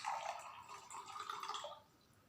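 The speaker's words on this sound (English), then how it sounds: "Now I will fill this water into the" Water poured from one glass into another, a brief close trickle and splash lasting about two seconds before fading to near silence.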